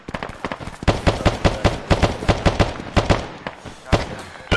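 Rapid volleys of gunfire in ArmA 3, a tactical military shooter, crack out in irregular bursts with sharp transients and short echoes, loud and close, mixed with some distant shots.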